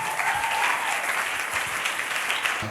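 A church congregation applauds together, a dense, steady burst of hand-clapping filling the hall at close range for a few seconds.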